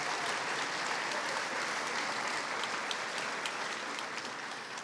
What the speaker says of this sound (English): let's give them a round of applause for helping me out